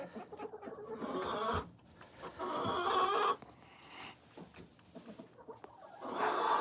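A Rhode Island Red hen clucks and murmurs in short, irregular bursts, close by, with scratchy farmyard noise between the calls.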